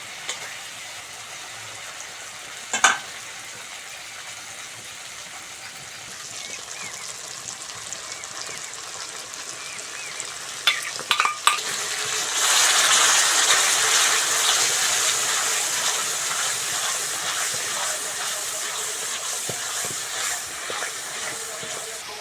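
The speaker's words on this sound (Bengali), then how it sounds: "মশলাটা ভালো করে কষে নিয়েছি" Spice masala with garlic frying in a pan for a potato curry, a steady hissing sizzle that swells louder midway, with a few sharp clinks of stirring near the start.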